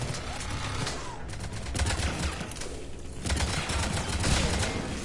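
Gunfire in Mass Effect 3 Legendary Edition, dense rapid shots in bursts over game noise, fairly loud throughout with some talk mixed in.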